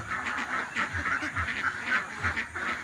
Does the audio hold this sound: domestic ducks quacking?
yes